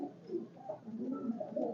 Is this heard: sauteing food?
no